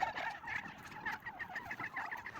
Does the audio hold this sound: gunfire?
no